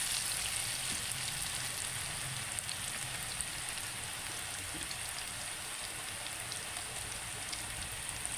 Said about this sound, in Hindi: ऑयल को गर्म करके आलू को देखिए आपने बारी बारी थोड़े थोड़े करके चिप्स डालने हैं